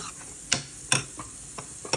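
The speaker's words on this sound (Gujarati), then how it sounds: "મિક્સ કરતા જઈએ." A spoon stirring chilies and spices in a pan for a Gujarati palak na patra dish: a few distinct scraping clicks spaced irregularly over about two seconds, close and moderately loud above a faint sizzle, with no voices.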